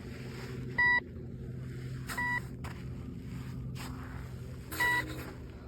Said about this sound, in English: I'm getting all these beeps just on 3 sensitivity